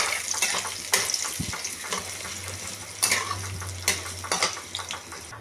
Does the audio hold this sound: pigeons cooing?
no